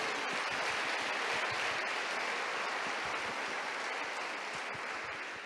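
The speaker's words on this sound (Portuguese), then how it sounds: "Vamos aplaudir ao Senhor." A church congregation claps steadily and densely throughout, an even wash of applause that tapers slightly toward the end.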